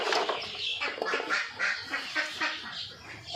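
A flock of farm ducks from a 400-duck flock quacks in a dense, continuous chorus, overlapping calls close and loud with no pauses.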